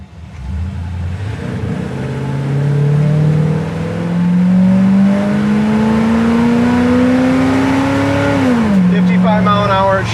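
A 1962 Chevy Impala SS V8 with four-barrel carburetion accelerating hard on the road, its engine note climbing steadily in pitch for several seconds, dropping at a gear shift, then rising again, loud and close with voices faintly under it.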